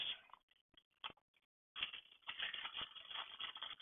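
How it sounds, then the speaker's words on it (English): A hex wrench fits onto the lug nuts of a GPtoys S920 Judge RC car, making faint, quiet scattered clicks and scrapes, then a denser run of small metallic rattling near the end. "let me check this hex wrench real quick, just make sure it fits the lug nuts."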